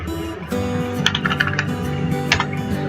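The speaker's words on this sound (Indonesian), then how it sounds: "kita tinggal mengetik tree saja" A computer keyboard in a Linux terminal is typed on in a short burst of close, crisp key clicks with uneven rhythm, over a low steady hum.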